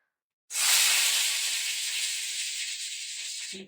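A sudden loud sizzle erupts as fish with eggplant, onion and tomato hits hot oil, then a steady bright hiss continues close by for a few seconds.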